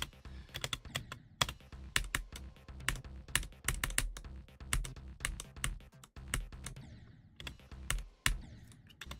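Rapid keystrokes on a new budget computer keyboard being tried out, crisp irregular clicks in quick bursts with brief pauses, close and clear with no talking.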